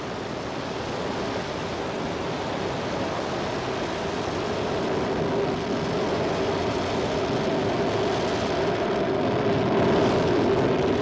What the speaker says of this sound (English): You can see all the engines burning there. The boosters, for the 4 boosters and the 4 main engines.